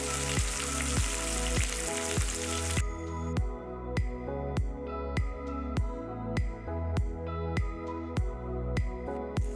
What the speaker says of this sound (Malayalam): ഇനി നന്നായിട്ടൊന്ന് വറുത്തെടുത്താൽ മതി